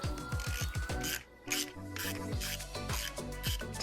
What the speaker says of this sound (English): So we have our 8mm socket and ratchet here.